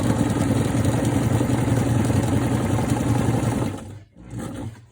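A sewing machine stitches a continuous run of folded double-fold fabric strips for mask ties, its motor whirring steadily and close for about four seconds before briefly stopping and starting again.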